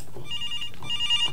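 An electronic telephone ring in the game Araya, two short trilling bursts in quick succession over a dim, hushed background.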